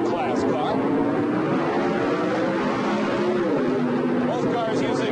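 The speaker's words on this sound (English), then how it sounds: "Both cars using small block Chevrolet engines." Small block Chevrolet engines power a pair of drag racing cars, a C-class dragster among them, at the 1978 Sportsnationals in Bowling Green, Kentucky, giving a loud, continuous engine drone whose pitch rises and falls across the run.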